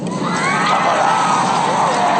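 Crowd noise at a Kamala Harris rally, a dense sustained roar of shouting and cheering voices, loud and continuous.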